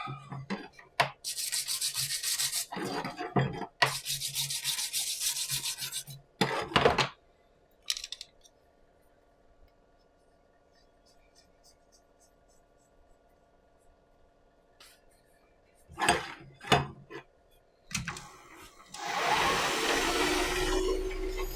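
Sanding a pen blank on a lathe for pen making: long rasping bursts of abrasive rubbing, close and loud, separated by quiet pauses with a faint motor hum, then a final steady stretch of sanding.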